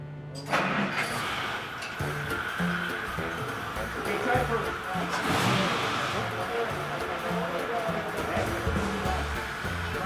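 A vintage Cord car engine starts and settles into a rough, steady running note, close and fairly loud, with people talking over it.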